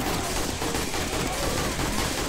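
Rapid continuous gunfire from the video game 7 Days to Die during an Alpha 19 horde night, loud and dense bursts with no pauses, close and saturating the whole moment.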